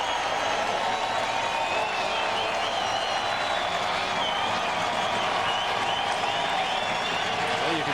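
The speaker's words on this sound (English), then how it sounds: "he's going to get a nice ovation from the crowd" A baseball crowd applauds a departing pitcher at an A's home game against the Blue Jays, a dense, steady wash of clapping and cheering that holds at full strength for the whole stretch.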